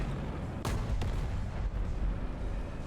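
Tank gunfire in the War Thunder combat game: two sharp cannon impacts strike close by over a dense, rumbling battlefield din.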